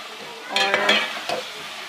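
Peas and cauliflower stirred into fried masala in a pan, a few distinct scraping spoon strokes over a low background sizzle, close and clear.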